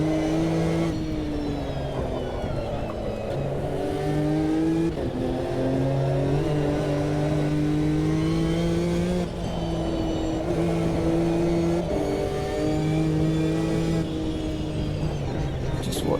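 Race cars roar past on a track in a historical endurance racing video game, including faster LMP prototypes lapping slower cars, with steady high-pitched engine tones rising and shifting continuously throughout.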